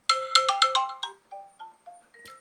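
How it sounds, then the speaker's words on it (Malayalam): A melodic phone ringtone for an incoming call plays through Boat Rockerz 430 over-ear headphones. It opens with a quick run of bright repeated notes, then a slower falling and rising sequence of tones, clear and close with no talking. "കോള് വരുമ്പോൾ ഇതിനകത്ത് നോട്ടിഫിക്കേഷൻ വേറൊരു ടൂൺ കേൾക്കുന്നു"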